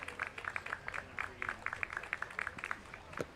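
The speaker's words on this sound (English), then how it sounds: "The claps build for another 0-2." A baseball crowd at a Cape Cod League playoff game, Hyannis Harbor Hawks against the Cotuit Kettleers, claps in a steady rhythmic beat, distant and faint, with scattered crowd noise.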